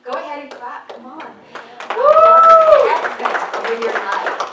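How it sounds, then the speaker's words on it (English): Church congregation clapping during a Sunday service, a ragged run of individual claps that swells into fuller applause, mixed with a loud voice calling out over it. "Go ahead and clap."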